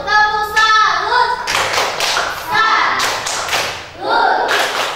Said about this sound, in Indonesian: Kita berikan tepuk salut ke kelompok 1